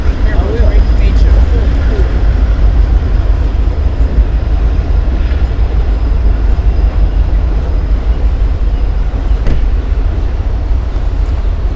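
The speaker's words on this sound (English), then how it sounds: "There goes Amtrak, first class Amtrak, riding past the cliff." An Amtrak passenger train with a wrapped coach car rolls past along Coffey's Cliff, a steady loud rumble of wheels and cars filling the scene, with faint background noise and no break in the passing.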